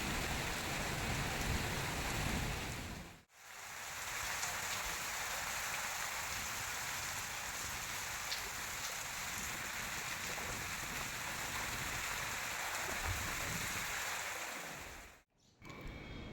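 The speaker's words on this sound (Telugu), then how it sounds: "సాయంత్రం పూట బాగా వర్షం వచ్చిందండి మాకు మహారాష్ట్రలో ఫుల్ మబ్బచ్చి ఫుల్ వానొచ్చింది" Steady, dense evening rain pours down in Maharashtra without a break, a broad hissing wash with brief quiet gaps, no voices.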